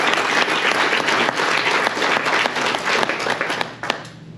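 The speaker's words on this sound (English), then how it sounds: "Let's give a round of applause to all of those incredible people who help grow our sport" Banquet audience at the 2024 Pickleball Alberta awards celebration breaks into sustained, dense applause, many hands clapping loudly and steadily for several seconds before thinning slightly at the end.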